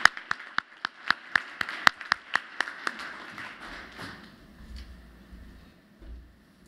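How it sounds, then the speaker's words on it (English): A few sparse, sharp claps from an audience at a Veterans Day ceremony at HUD headquarters, about a dozen separate slaps over two seconds that thin out and fade into quiet room noise. "Let's give them a round of applause for their contributions and dedicated service to our veterans."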